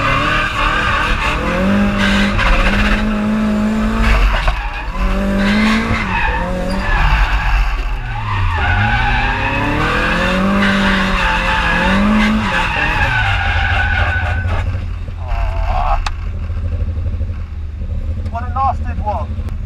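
A Nissan Silvia S14 drift car with an SR20DET engine, on a track, skids with sustained tire squeal while its engine rises and falls in pitch. It is loud and close, and voices can be heard over it.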